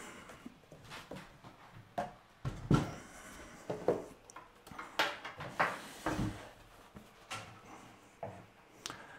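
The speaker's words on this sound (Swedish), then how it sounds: "Jag knuffar upp köksbordet." A kitchen table is pushed across the floor in a room, giving repeated scraping, knocking bumps in uneven bursts, close and moderately loud, with no talking.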